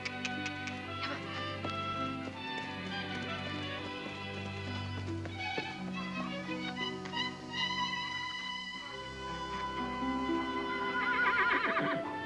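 Horses and foals neighing repeatedly, high whinnies rising over a sustained musical backdrop, with several calls spread across the span and a louder burst near the end.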